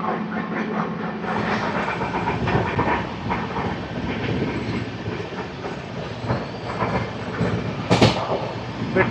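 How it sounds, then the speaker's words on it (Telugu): The Howrah Mail express train runs at 130 km/h with a steady roar and rhythmic clickety-clack of wheels over rail joints, close and continuous, with a brief hissing swell near the end. "ఒకటే స్పీడ్ అమ్మా. 130, 130, 130. ఎక్కడ తగ్గట్లేదమ్మా హౌరా మెయిల్."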